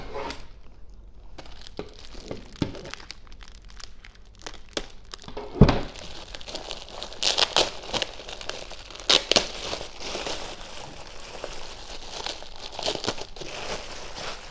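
Packaging of an Emphaser EBS108A spare-wheel-well car subwoofer being unwrapped: close, irregular crinkling and tearing of plastic and cardboard with sharp rustles and a few thumps, continuing throughout with no talk.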